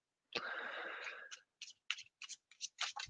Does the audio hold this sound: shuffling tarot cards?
yes